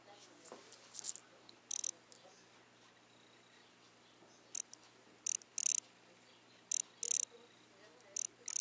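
Short, muted electronic chirps from a fishing lure's speaker mimicking a dying baitfish repeat in irregular bursts, cricket-like and fairly faint, over a quiet background hiss.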